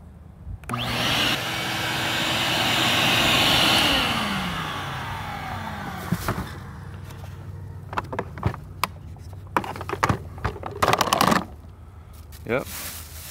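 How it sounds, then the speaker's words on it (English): A vacuum cleaner sucks a pull string through electrical conduit, a loud rising whoosh that swells and then fades, followed by scattered knocks and rattles of handling. "That way the vacuum won't suck it through."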